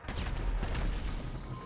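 A tank cannon blast in Grand Theft Auto V, a heavy booming burst with rumbling low end and crackling debris filling a short loud stretch of game audio.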